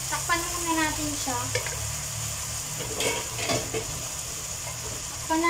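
Empanada filling sautés and stirs in a pan, with a steady sizzle and scraping spoon strokes running throughout, and a faint voice briefly underneath.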